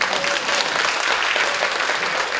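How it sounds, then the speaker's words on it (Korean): Audience at an education symposium on character education claps in sustained, even applause that fills the hall throughout. "박수 한번 해주십시오"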